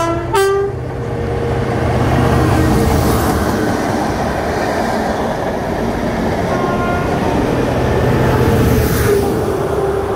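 Trains rumble past nearby, a steady heavy roar of wheels on rails, with a brief horn toot at the start.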